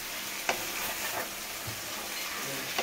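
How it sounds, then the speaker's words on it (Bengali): Chicken sizzles in a pan with Hyderabadi biryani masala as sour yogurt is stirred in, a steady frying hiss with a few soft spoon scrapes and taps against the pan. "আচ্ছা, এর মধ্যে লাস্টে অল্প একটু আমি টক দই মিশিয়ে দিচ্ছি।"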